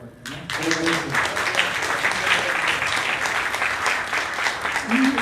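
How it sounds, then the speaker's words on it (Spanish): Audience applause fills a lecture hall after a talk on the Aztecs, a dense, steady clatter of many hands that swells quickly and holds for several seconds, close and loud. "Un aplauso más fuerte, ¿no?"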